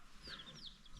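Golden comet and red producer hens cluck softly in a garage, a faint, close murmur of short chirping clucks over a low background hum.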